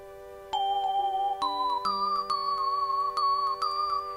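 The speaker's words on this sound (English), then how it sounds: "That little chime sequence there." A short chime melody from the Earthbound video game rings out in clear, bell-like notes, rising step by step over a few seconds with a sustained tone underneath, and no talking.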